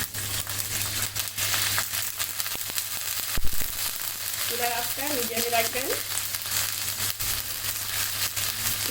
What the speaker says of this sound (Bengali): এখন এই পেঁয়াজ বাটাটা একটু কষিয়ে নিব তেলের মধ্যে